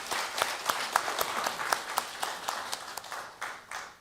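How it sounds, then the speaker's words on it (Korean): A church congregation at a Sunday worship service applauds, steady rhythmic clapping from many people in a reverberant hall that holds evenly and then fades slightly at the end. "우리 박수로 환영하겠습니다."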